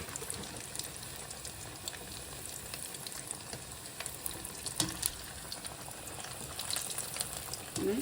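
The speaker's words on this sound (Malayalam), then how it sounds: "കട്ട്ലേറ്റ്സ് എല്ലാം ഓരോന്നോരോന്നായിട്ട് അരച്ച എണ്ണയിൽ ഇട്ട് വറുത്ത് കൊടുക്കുക." Cutlets frying one by one in oil in a home kitchen, giving a steady close crackling sizzle with small pops and a few light clinks throughout.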